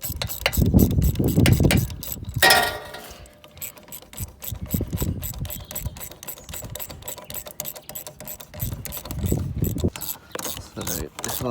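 Ratchet clicking in rapid bursts while tightening a boost pipe clamp on a Fiat Grand Punto 1.9 diesel turbo, close and fairly loud, with metallic clatter and a brief rushing noise between bursts.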